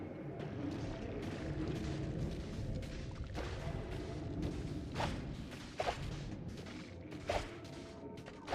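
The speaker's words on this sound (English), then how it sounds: "What is with all the explosions?" Repeated explosions rumble through a Noita game cave, several sharp blasts and thuds standing out at moderate distance over a dense, continuous crackling and rumbling background.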